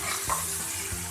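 Radish bhujia sizzles steadily in a pan after salt is added, with soft stirring scrapes and a couple of brief louder clicks over a constant frying hiss.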